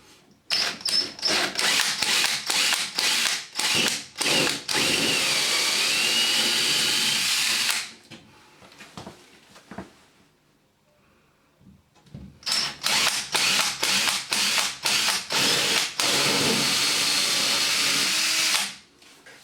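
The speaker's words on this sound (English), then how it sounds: "I've now fitted an hole saw to the drill that's the correct size" A power drill fitted with a hole saw bores holes through a board for shower pipes, two long loud bursts of grinding, whirring cutting with rapid pulsing, separated by a quieter pause of scraping and handling.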